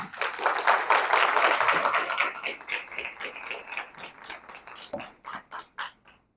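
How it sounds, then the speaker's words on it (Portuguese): Audience applause for a speaker after a technology talk, starting as a dense burst of clapping and thinning out into scattered, separate claps that die away near the end. "uma salva de palmas"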